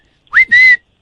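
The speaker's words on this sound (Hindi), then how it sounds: "आगे तो बार बार सीटी परेशान कर रखा है" Two sharp whistles come over a phone line during a prank call, a quick rising chirp followed by a longer steady note, loud and alone.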